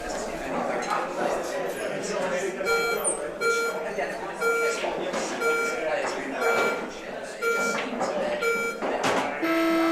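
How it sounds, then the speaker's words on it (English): Shot clock beeps during a televised women's snooker match, repeated tonal bleeps sounding over a hushed arena while commentators talk throughout. "Under pressure with those beeps."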